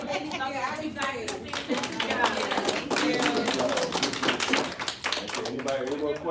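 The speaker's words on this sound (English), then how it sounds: "round of applause for the ladies up there." A live talk audience breaks into a round of clapping, loud and uneven, with tapping hand strikes that rise and fall. Voices talk over the applause throughout.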